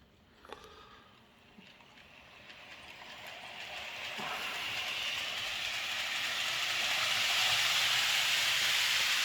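A model railway train circles a helix, its steady rolling hiss growing louder and nearer over several seconds as it climbs round the levels, with a few faint clicks early on and no talk.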